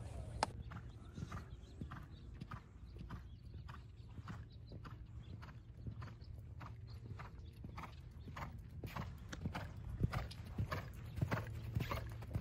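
A ridden horse's hooves clip-clop at a steady walking rhythm while it steps over poles laid on the ground, each footfall crisp and fairly close, with faint voices in the background.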